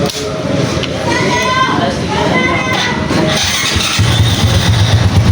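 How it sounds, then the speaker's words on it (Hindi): A nearby motorcycle engine, converted from automatic to manual, starts with an electric starter about two-thirds through and settles into a low, steady idle, with voices and background noise around. "ये हमारी बाइक स्टार्ट हो गई है। ये सेल्फ से स्टार्ट है हमारी बाइक।"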